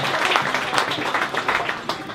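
An audience applauds in a room during an evening event with a KISS guitarist, with steady clapping at moderate loudness and no talk over it.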